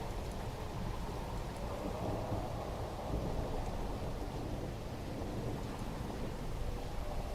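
Steady rain with rumbling thunder in a video game city scene, a dense, continuous downpour with low rolling thunder throughout, no voices.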